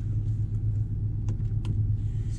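Low, steady engine rumble from a 400 bhp eight-seat Land Rover Defender 130 set to mud ruts mode, a smooth idle drone inside the vehicle with a few faint clicks and no talk.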